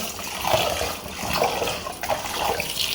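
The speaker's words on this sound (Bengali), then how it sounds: "ডাল রান্না করবো, ডালটা ধুয়ে নিই।" Water sloshes and splashes as lentils (dal) are rinsed in a kitchen, a close, uneven churning of liquid with repeated surges and no talk.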